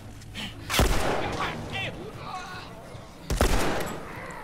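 Gunfire in the video game The Last of Us Remastered: two sharp, loud shots about two and a half seconds apart, with game ambience and a voice talking between them.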